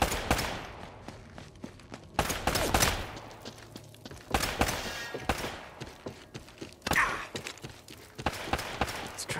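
Uncharted: Drake's Fortune firefight, with repeated bursts of gunfire spread across several seconds and footsteps and thuds between the shots.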